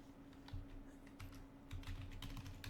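Computer keyboard typing, a run of quick, soft key taps entering a web address, close but quiet over a low room hum, with no talking.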